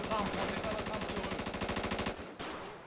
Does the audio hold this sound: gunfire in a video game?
yes